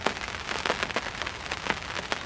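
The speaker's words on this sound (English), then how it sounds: "now we have woken up to the rain hammering down" Heavy rain pounding down on a carp fishing camp, a dense, steady patter with scattered sharper drop hits across the whole stretch.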